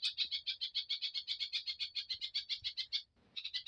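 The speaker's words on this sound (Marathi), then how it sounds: "एवढं चिवचिव चिवचिव चिवचिव तिचं चाललंय" A sparrow chirps in a fast, continuous run of sharp, bright notes close by. A brief gap comes near the end before the chirping resumes.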